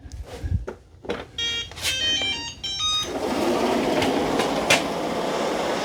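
A Shark ION robot vacuum starts a max clean run: a few short electronic beeps and clicks, then a steady, fairly loud whirring motor and brush noise with no talking.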